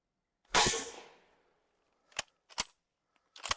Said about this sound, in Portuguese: carregamos 5 tiros, podemos fechar o ferrolho com a clássica alavanca reta e vamos atirar